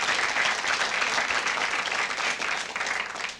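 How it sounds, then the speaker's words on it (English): A studio audience bursts into steady, dense applause, loud and close, holding evenly for a few seconds before tapering slightly at the end, with no voices over it. "It's the first time we've ever had people clapping for toilet paper."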